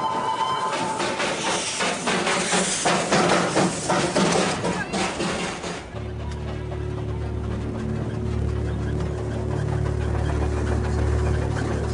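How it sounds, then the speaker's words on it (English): The Darjeeling Himalayan Railway's small toy train, a hill line dating from 1881, chugs along with a steady mechanical rumble. A low, continuous engine drone settles in during the second half, and a voice is heard talking briefly near the start. "There's a chugging, the sound of the movement of the train"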